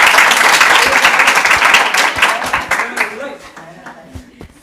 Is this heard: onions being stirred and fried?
no